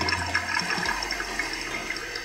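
Water falling and trickling inside a Krups EC3140 programmable coffee maker as it brews, a steady close splashing with no voices.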